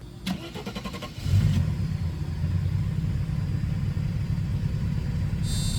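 A 1992 Mercedes-Benz 300TE engine cranks briefly with a starter whir, then catches and settles into a steady, low, rumbling idle that carries on close by and fairly loud.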